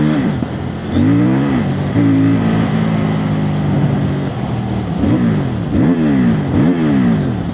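A CFMOTO 800NK Sport motorcycle from 2024 revs loudly up close, its engine climbing and falling in repeated throttle blips over a steady idle, with no voices.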